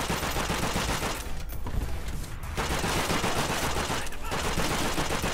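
Dense, loud gunfire and a grenade blast in Call of Duty: World at War PC multiplayer, continuous crackling bursts with brief gaps, a voice talking faintly underneath.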